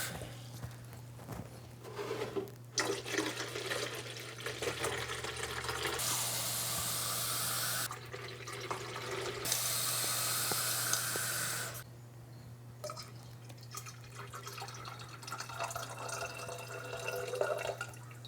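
Water poured from a tap into an old milk carton holding vinegar, several bursts of running, filling water broken by pauses and drips, close and steady with no speech.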